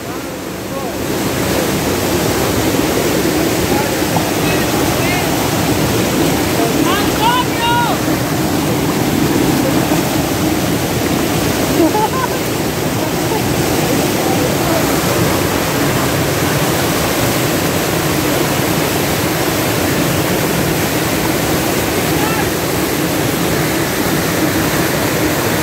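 A swollen river rushes past in a continuous loud roar of water, close by and unbroken, with wind buffeting the microphone.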